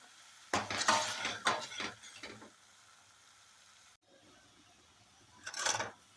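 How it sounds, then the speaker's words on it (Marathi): Raw onion and tomato being sautéed in a pan for a paneer curry, with a few close scraping stirs over a low sizzle and quiet stretches in between. "कच्चा कांदा आणि टोमॅटो काढलं, त्यामुळे 5 मिनिटं याला परतून घेऊ"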